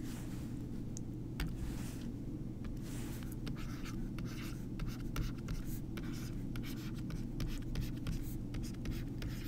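A hand writes a triangle diagram and trigonometry definitions, the pen scratching and tapping in quick irregular strokes against a steady low background hum.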